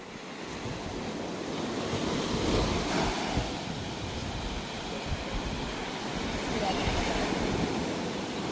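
Ocean surf breaking and washing ashore on a beach, a broad, steady roar swelling and easing over several seconds, with wind buffeting the microphone and no clear talk.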